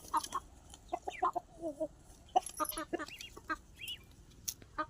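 Hungry ducks waiting to be fed give scattered short quacking calls, some overlapping, with quiet gaps between bursts.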